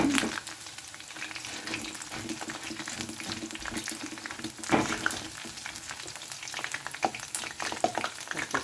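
Boondi (small gram-flour drops) fry in hot oil with a steady, bubbling sizzle and dense crackle, occasional louder pops and light spoon clinks, close and continuous with no talk.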